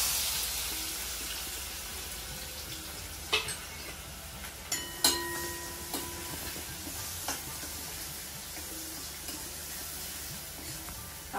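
Asafoetida, curry leaves and finely chopped onion sautéing in a pan for Khandeshi dal bati, a steady soft sizzle with a few sharp clinks of a spoon against the pan.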